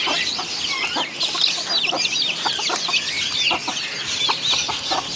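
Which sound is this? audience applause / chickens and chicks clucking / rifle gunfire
chickens and chicks clucking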